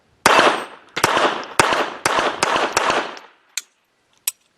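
Jimenez JA-22 pistol firing Remington Golden Bullet ammunition at a range, about six sharp, loud shots in a steady rhythm with echoing tails, then two more isolated shots after short pauses.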